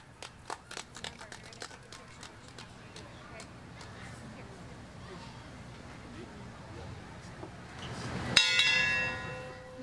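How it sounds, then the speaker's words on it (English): A ceremonial bell at a Let Freedom Ring ceremony strikes once loudly near the end, ringing on with a bright sustained tone, after a stretch of scattered clicks and a noisy room. "I will be the first one to ring the bell."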